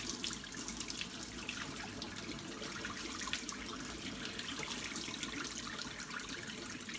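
Boiling water pours steadily in a continuous splashing stream, close and fairly even for several seconds, with no talking.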